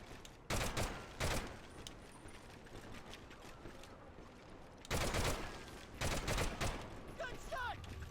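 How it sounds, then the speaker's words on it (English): Several loud bursts of rapid gunfire in the PSP game Medal of Honor Heroes, separated by quieter stretches of in-game ambience, with a short voiced sound near the end. "Gunshot!"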